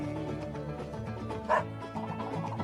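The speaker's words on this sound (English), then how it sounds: "Who let the dogs out?" Dogs barking and yipping over a constant droning tonal background, with one louder bark standing out midway; no voices.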